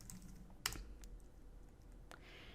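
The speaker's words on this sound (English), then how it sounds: "why do I keep typing out things in comments?" Typing on a computer keyboard while coding character and string examples in Visual Studio 2019, heard as a few sparse, quiet keystrokes, one sharper click near the start, under low room noise with no talking.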